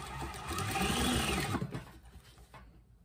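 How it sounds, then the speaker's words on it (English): A Consew industrial sewing machine driven by a servo motor runs fast through 12-ounce denim, a close, steady whirring stitch that swells for about two seconds, then winds down and stops. "That's how fast it sews."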